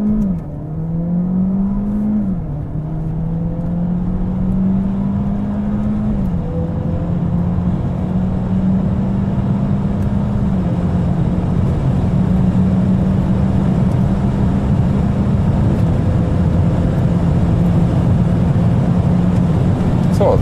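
A 2021 Peugeot 508 PSE plug-in hybrid accelerating hard down a test track straight, its engine note climbing steadily through the gears with brief shift dips, a loud continuous roar heard from inside the car.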